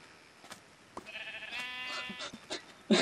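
Sheep bleating in the Minecraft video game, a single drawn-out wavering bleat rising clearly over a quiet game background, followed by a short soft thump.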